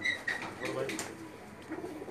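Pigeons coo softly in a rooftop loft, a few low murmuring calls with people talking over them nearby.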